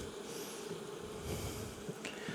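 A honeybee swarm in a swarm trap gives off a steady, low, faint buzzing hum that stays fairly constant, with a few brief louder passes of individual bees.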